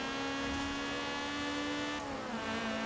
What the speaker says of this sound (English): Revving this almost 9k.